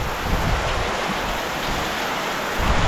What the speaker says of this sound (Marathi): वारा पण जोरात सुटला आहे आणि पाऊस डेंजर आहे.